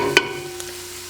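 Pepper with salt sautéing for vegetable soup, a soft sizzle behind a steady kitchen hum, opened by one sharp clink of a utensil, with no talking.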